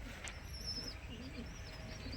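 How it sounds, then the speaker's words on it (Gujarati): Black pigeons cooing softly in low, continuous murmurs, with a faint higher chirp early on, all in a steady near ambience without speech. "કાળા કબૂતર અહીંયા લેતા આવ્યા"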